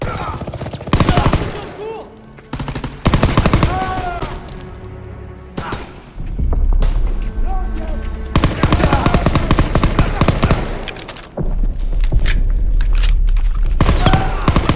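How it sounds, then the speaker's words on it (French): Machine gun fire in the World War II shooter Call of Duty WWII, loud bursts of rapid gunfire separated by short pauses, with booming thuds and game sounds between the volleys. "Petite mitrailleuse pour changer"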